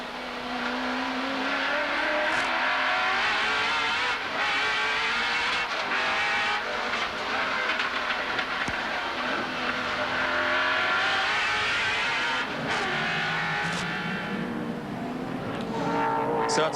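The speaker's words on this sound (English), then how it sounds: "let's listen to these lovely sounds from that V8." A Holden Commodore V8 race car competing in the 1991 Nissan Mobil 500 street race in Wellington, its engine roaring loudly and steadily throughout, with rising and falling revs as the car works through gears.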